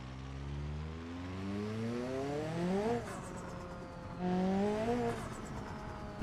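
Turbocharged car in BeamNG.drive revving up and letting off twice, each lift followed by a fluttering blow-off valve chatter, engine tone climbing then dropping, with no talk.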